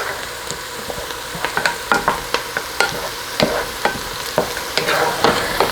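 Cowboy butter stirred in a hot pan for a ribeye dish, a steady background sizzle broken by repeated sharp scrapes and clicks of a utensil against the pan, close and fairly loud with no talking.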